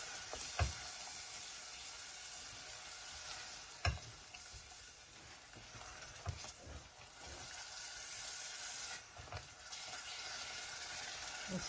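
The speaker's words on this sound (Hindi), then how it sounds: "तीन से चार मिनट तक मसाले को भून लें" Masala spices frying in a pan for a Ramadan snack, a continuous soft sizzle broken by several sharp stirring clacks from a spoon, close and fairly quiet.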